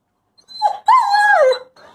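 A vocal wolfdog gives a short, close, speech-like howl: a brief rising whine, then a longer sliding wail that falls away, with a faint whimper after it.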